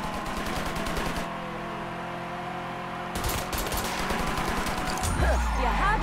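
Gunfire from the video game Mafia 3 rattles in rapid automatic bursts, with dense volleys at the start and again in the second half over a sustained engine-like drone and game sound.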